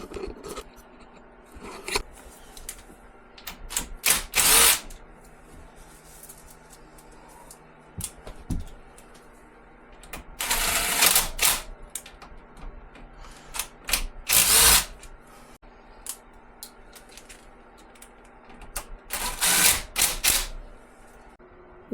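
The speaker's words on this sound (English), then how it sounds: "The fork clamp bolts are kind of crusty, so we'll change them out" Crusty fork clamp bolts on a KTM 500 motorcycle being worked loose with hand tools, giving sharp, scraping, ratcheting bursts at irregular intervals, several clustered close together, between quieter stretches.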